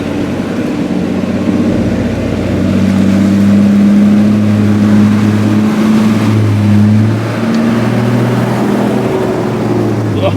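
A 4x4 pushes through a slippery, solid-bottomed mud hole on a wet Victorian High Country track in second gear, its engine a loud, steady low drone that swells as it pulls.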